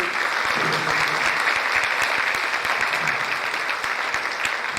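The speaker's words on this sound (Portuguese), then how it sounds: "Palmas para vocês." Audience applause at a school pedagogical organization meeting, loud and sustained clapping from a room full of people, steady throughout with no voices on top.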